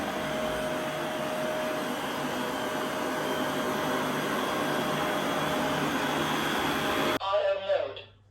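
Tineco Carpet One carpet cleaner running in dry mode on carpet: a steady, loud whooshing motor drone that cuts off abruptly near the end, followed by a brief spoken voice.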